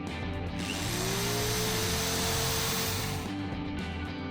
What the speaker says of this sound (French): Un tournevis aide toujours.